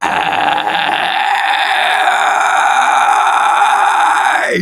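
A full vocal fry scream is held steadily for about four and a half seconds, loud and harsh with a gritty, rasping texture. It is performed alone, with no other voice, and cuts off abruptly at the end.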